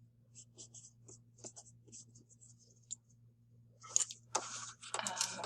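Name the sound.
writing notes on paper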